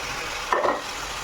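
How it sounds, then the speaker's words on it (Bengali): Boiled potatoes are stirred in a pan with a dry-roasted, ground mix of coriander, cumin and fennel seeds for vegetable chops; a short scraping, shuffling burst rises mid-clip over a steady low hiss. "দিয়ে ভালো করে আলুর সাথে এগুলো মিশিয়ে নেব"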